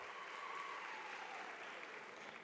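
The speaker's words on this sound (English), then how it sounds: "let's give them a round of applause." Audience at a university graduation ceremony in Durban applauds the choir, a faint, steady wash of clapping that keeps an even level for a couple of seconds.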